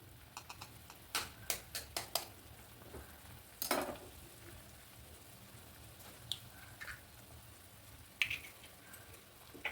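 Eggs are cracked and poured into a simmering egg masala curry in a pot, giving a few faint sharp taps and clicks over a soft, steady low sizzle.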